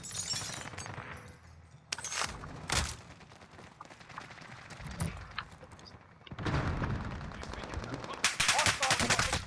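Gunfire in Call of Duty Warzone, with sharp rapid bursts and single cracks at varying distances, some loud and close, interleaved with game noise and brief stretches of quieter ambience.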